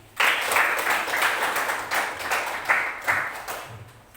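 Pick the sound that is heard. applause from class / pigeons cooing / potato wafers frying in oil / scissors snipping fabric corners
applause from class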